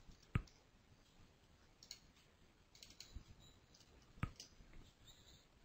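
A computer mouse clicking a chevron button in drilling-machine software: a few sparse, sharp, quiet clicks spaced about a second or more apart over soft background hiss.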